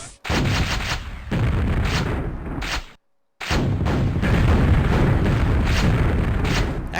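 A rocket launcher in a first-person shooter game fires over and over, each shot a loud, thudding, booming blast. The blasts pause briefly midway, then resume.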